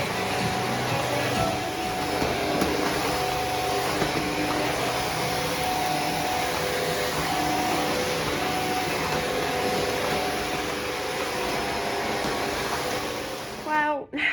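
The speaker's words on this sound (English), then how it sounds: "I desperately need to hoover, vacuum, whatever you call it. So I've got my shark out." A Shark vacuum cleaner runs continuously at home during spring cleaning, a loud, steady whirring roar with a constant motor hum that holds for the whole stretch before cutting off abruptly at the end.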